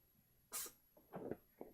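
A single quiet sneeze, sharp and breathy, followed by a couple of soft sniffs or snorts close by.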